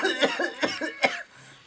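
A person with a worsening cough coughs three times in quick succession, close and fairly loud, each burst harsh and breathy, followed by a brief quiet low hum.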